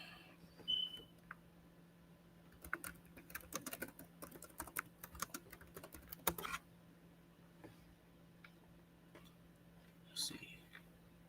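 Typing on one of two computer keyboards during an interview setup, irregular bursts of key clatter over several seconds, faint and close, with a quiet background hum and a little talking.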